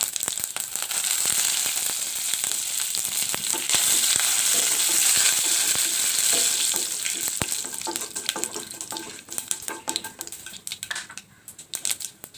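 Mustard seeds popping in hot oil with dried red chillies and curry leaves frying for Kerala thondan mulaku pickle, a loud, dense crackling sizzle with sharp pops that gradually thins and turns sparser toward the end.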